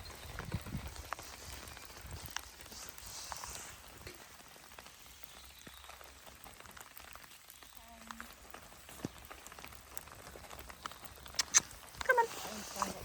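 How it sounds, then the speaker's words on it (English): Rain falling on a forest during a wild camp, a soft, steady patter with scattered louder drops and brief low voices underneath. "It was pouring with rain"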